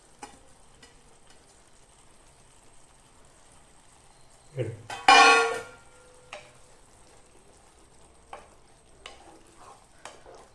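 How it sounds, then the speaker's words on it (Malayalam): Oyster mushroom roast with sliced green chillies and coriander leaves stirred in a pan: a brief, loud burst of scraping and sizzling midway, with quieter pan clatter and faint ticks before and after. "ഒന്ന് നന്നായിട്ടൊന്ന് ഇളക്കുക"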